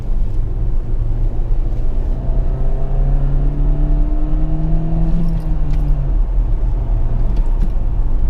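Peugeot 308 pulling hard in second gear, engine note climbing steadily in pitch as it accelerates, a loud constant drone inside the cabin with no talking.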